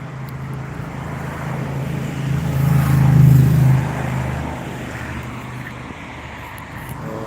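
An outdoor bus engine rumbles and grows louder as the vehicle approaches, peaks in a deep drone midway, then fades as it passes. It sounds moderately close and there is no talk.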